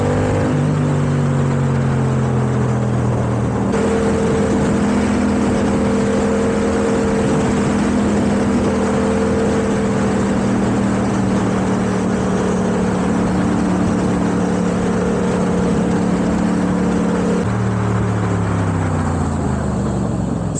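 A Yamaha MT-07 motorcycle engine drones loudly and continuously while riding, close to the listener, with steady revving and audible shifts in pitch as it accelerates and changes gear, and no talk over it.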